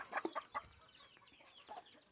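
Chickens cluck in soft, scattered bursts close by during their morning feed, with faint rustling and pecking sounds and no talking.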